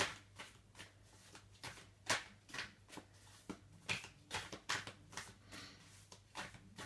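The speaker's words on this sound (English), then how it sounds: "we'll just give the cards a good shuffle here" Cards are shuffled repeatedly, producing quick riffling and flicking bursts in an irregular rhythm, close and fairly quiet with no talking.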